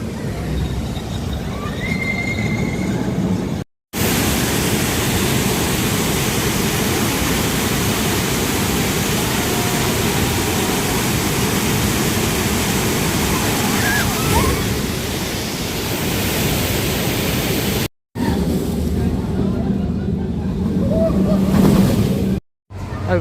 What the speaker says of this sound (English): Come over to this water coaster now called Poseidon.